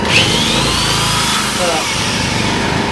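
A Yamaha portable generator engine drones loudly and steadily nearby, its pitch rising slightly as it works harder under load.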